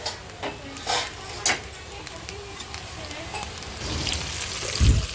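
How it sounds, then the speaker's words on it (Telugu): Curry leaves frying in oil for tomato chutney, a soft steady sizzle with occasional spoon clinks against the pan, fairly quiet and close, with a voice talking over it. "ఆయిల్ కూడా వేసుకున్నాను కదా మొత్తం ఫ్రై చేసేసుకోవాలి"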